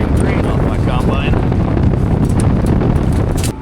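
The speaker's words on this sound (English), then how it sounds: "the wind is blowing so bad that this is coming untucked" Strong wind buffets the microphone beside a combine harvester pouring grain, producing a loud, continuous low roar with some rattling over it.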